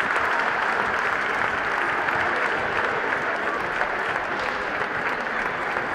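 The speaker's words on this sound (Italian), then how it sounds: "Bosco, un applauso a coach Bosco." An indoor crowd at a youth basketball award ceremony claps for a coach, a steady, moderately loud roar of applause lasting several seconds without a voice over it.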